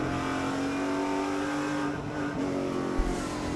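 Super Late Model race cars racing at Berlin Raceway, a steady loud engine drone from inside a car at speed, with nearby cars roaring alongside and a brief thump near the end.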